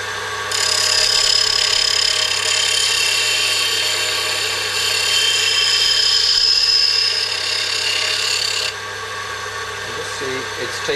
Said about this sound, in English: we've got to grind off a little bit across the back here.